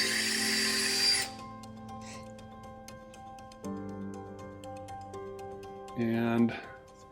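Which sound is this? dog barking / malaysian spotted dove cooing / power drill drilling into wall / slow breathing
power drill drilling into wall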